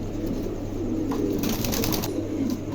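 A pair of pigeons cooing close by, soft low murmuring coos over a steady background hum, with no talk.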